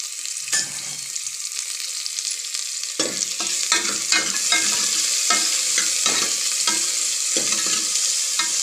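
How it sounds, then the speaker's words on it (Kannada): Chopped onion and tomato go into hot oil for sprouted-bean sambar, a steady sizzle with repeated scraping clicks of a spoon stirring the pan, close and clear with no talk. "ಎಣ್ಣೆ ಕಾದ ನಂತರ ಅದಕ್ಕೆ ಹೆಚ್ಚಿಟ್ಕೊಂಡಿರುವ ಈರುಳ್ಳಿ ಮತ್ತು ಟೊಮೊಟೊವನ್ನು ಈರುಳ್ಳಿ ಹಾಕ್ತಾಯಿದ್ದೀನಿ."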